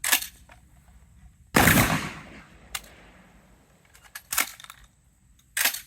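A Remington 11-87 police trade-in short-barreled shotgun fires Winchester Universal 7.5 shot shells outdoors: a loud blast with a long decaying tail, followed by a few sharper reports and clacks spaced seconds apart, close to the mic.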